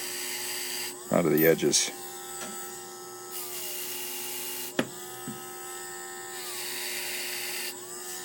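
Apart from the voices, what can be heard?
Dremel with fine sandpaper Whizzer wheel deburring metal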